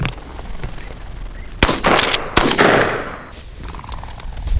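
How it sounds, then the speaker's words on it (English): Two sharp 12 gauge shotgun blasts ring out outdoors during a hunting trip, the first at about 1.6 seconds and the second close behind it, both near and loud with a lingering rolling echo between and after them. "Whenever I get 12 gauge in my hand, I like to shoot it."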